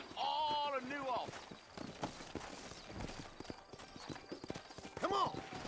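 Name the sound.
horses trotting in a video game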